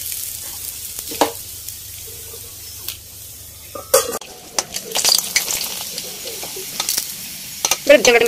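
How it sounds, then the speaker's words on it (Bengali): Papad frying in hot oil in a home kitchen gives a crackling, spattering sizzle that starts midway, accompanied by scraping and clinks of a utensil against the pan. "খাওয়ার সময় একটু কয়েকটা পাঁপড় ভেজে নেব"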